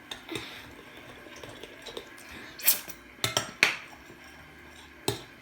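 A spoon scrapes and clinks against a bowl while homemade slime is stirred, giving sparse, close knocks and scrapes with a few sharper clacks over soft background sounds.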